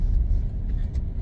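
A car drives along a road as a steady loud low rumble of engine and tyres, close up and unbroken.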